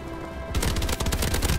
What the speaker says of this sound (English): I got a remote turret up.